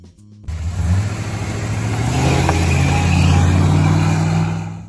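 A 1974 Dodge Monaco engine turns over after a short silence, then revs and holds a loud, rising roar that swells steadily toward the end.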